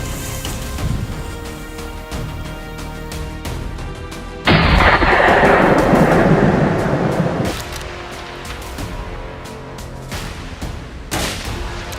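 During a wild hog hunt in an Arkansas forest, a single loud gunshot booms and rolls away in a long, fading echo through the trees over a steady background.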